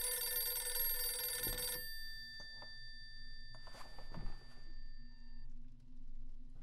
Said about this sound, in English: Oh, now we got a phone call.